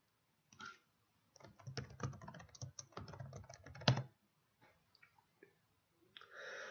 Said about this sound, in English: we'll just type in climate change and see what we find